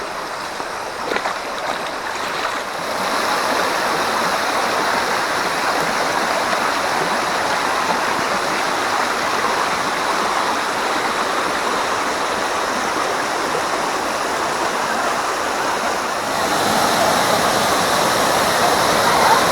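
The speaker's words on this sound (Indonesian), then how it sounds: "Air terjun Rongoh nih guys." Rongoh waterfall in Aceh Tamiang roars steadily from start to finish, a loud broadband rush of falling water that grows slightly heavier near the end, with no voices over it.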